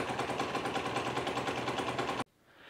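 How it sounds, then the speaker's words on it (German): Piaggio Sfera scooter engine running after a variator repair, a steady, rapid-pulsing idle heard close that cuts off abruptly near the end, leaving faint background noise. "so soll der Motor klingen"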